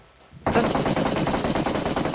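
Automatic gunfire rips out in PUBG Mobile after a brief quiet moment, a loud, rapid burst of shots that keeps going steadily to the end.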